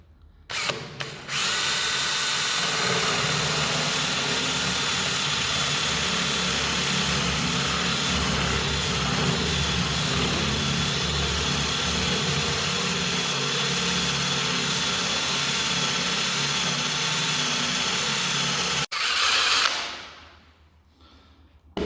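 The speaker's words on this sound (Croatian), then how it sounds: "stavljam ploču i počinjemo bušenje" A power drill bores a hole through a laminate floor board resting on scrap pieces over an empty box. The motor whines loudly and continuously for about eighteen seconds before spinning down.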